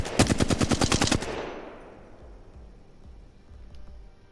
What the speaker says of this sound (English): It's the Hemlock Burst AR.